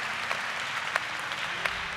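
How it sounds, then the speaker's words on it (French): Applause from a church congregation, a soft, steady patter of many hands heard from some distance, with a few sharper individual claps standing out. "if you want to clap, do it"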